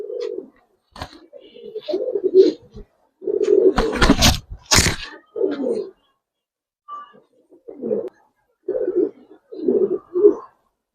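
Male Gribaz coloring pigeons in a loft give repeated low, throaty coos in bursts across the clip, close by, with some scuffling and noisy flutters in between.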